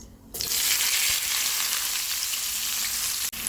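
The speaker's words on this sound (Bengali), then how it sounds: "এবার পেঁয়াজটা ভেজে নেব।" Onion, cumin and bay leaf fry in a pan with a loud, steady, close sizzle that starts abruptly and holds constant, with no talking.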